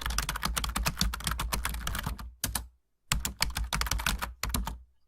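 Rapid keystrokes on a computer keyboard, steady clicking in two bursts with a brief pause between, close and moderately loud with no voices.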